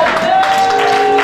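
A congregation at a worship service in Lyon applauding and cheering, a steady wash of clapping and crowd noise with a sustained tone running underneath.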